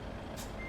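Reversing alarm of a truck in Euro Truck Simulator 2, a single brief electronic beep sounding faintly over a low engine rumble.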